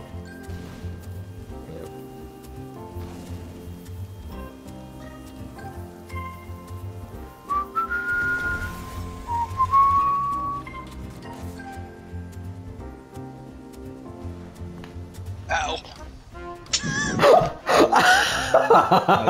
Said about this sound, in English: I thought you were just whistling.